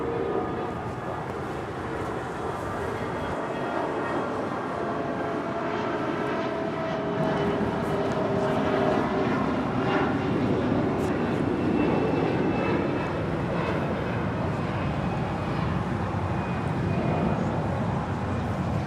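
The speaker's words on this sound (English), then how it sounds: "Coming in from JFK, that is JetBlue Airways flight 2123 in this A321." A JetBlue Airbus A321 arriving at LAX from JFK produces a sustained engine roar that builds slightly toward the middle and stays steady, with no talking.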